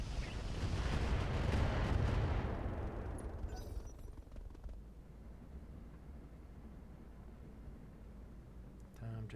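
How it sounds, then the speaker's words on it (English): Mech in a MechWarrior-style battle against Capellan forces unloads all its weapons at once, a loud rumbling barrage of blasts that swells over the first few seconds then fades into a lower roar, with a voice speaking over it. "Firing all weapons."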